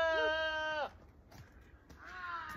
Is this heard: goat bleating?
yes